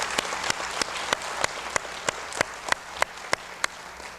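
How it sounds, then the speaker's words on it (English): Audience at a school speech contest applauding student participants, a broad crowd clap joined by one close, loud pair of hands striking in a steady rhythm of about three claps per second above the general applause. "Again, a nice round of applause for these students participating."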